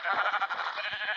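Sheep bleat in Minecraft Pocket Edition survival mode, a steady wavering bleat lasting just over a second, close and clear with no talk.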